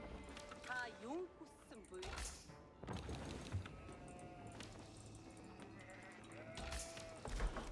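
Sheep bleat several times close up in the real-time strategy game Age of Empires IV, wavering calls over game ambience and clicks, with someone talking intermittently.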